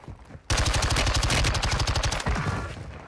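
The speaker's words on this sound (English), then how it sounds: "Man, you're shooting at me." A hard, fast stream of automatic fire from akimbo LMGs in Warzone 2 kicks in after a short quiet lead-in and rattles on loud and close for the remaining seconds, with no voices.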